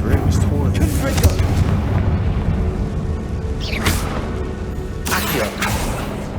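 A Confringo blasting spell goes off in the Hogwarts Legacy video game, loud booming bursts over a dense rumbling game soundscape, with sharp broadband blasts near the middle and again toward the end.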